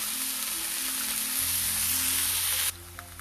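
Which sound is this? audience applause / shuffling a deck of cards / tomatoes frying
tomatoes frying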